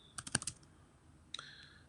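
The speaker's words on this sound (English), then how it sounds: "Let me go back and type here." Brief bursts of typing on a computer keyboard, a quick cluster of clicks followed by a pause and a second short flurry, faint and close in a quiet room.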